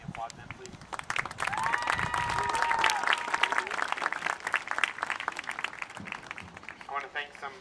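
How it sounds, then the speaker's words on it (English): Students applauding parents at a Parents Day camp event, a crowd clapping steadily alongside cheering and chatter, with a voice rising above the noise partway through. "Students, would you help me applaud them, please?"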